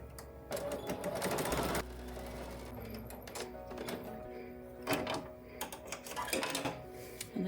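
A sewing machine stitches along the folded edge of a fabric bag handle, its needle running in steady bursts with short pauses and small clicks between runs, close and clear.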